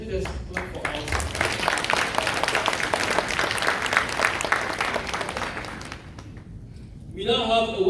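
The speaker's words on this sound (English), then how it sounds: "Please let us clap for ourselves." Members at a CEANA convention in Atlanta clap for themselves, a dense, sustained round of applause that fades near the end before a voice begins speaking.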